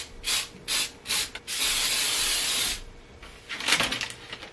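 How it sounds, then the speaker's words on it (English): Cooking spray is sprayed into a baking pan for a triple layer brownie: a few short hissing bursts, then one long steady hiss of about a second and a half, followed by a rougher rustling burst, close and fairly quiet. "and then again we're gonna spray it with our non-baking"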